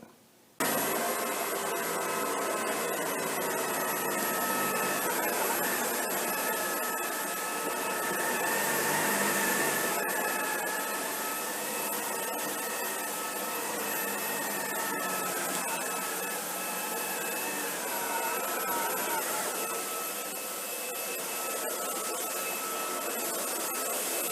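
Shark WandVac handheld vacuum cleaner running over pet and human hair on carpet, a steady loud motor whine with a slight rise and fall in pitch, close and continuous for the whole stretch without speech.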